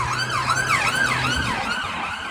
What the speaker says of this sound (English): There's the ambulance away.